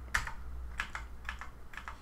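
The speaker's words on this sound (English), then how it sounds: "simply use the down arrow or up arrow key on your keyboard" Arrow keys on a computer keyboard are pressed in a series of soft, close clicks, roughly paired taps spaced evenly over a couple of seconds, with no voices.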